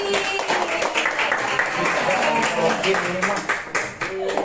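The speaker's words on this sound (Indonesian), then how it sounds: "Tepuk tangan untuk Abi" Classmates clap for a student in a school class, a dense patter of hands lasting throughout, with children's voices chattering over the clapping.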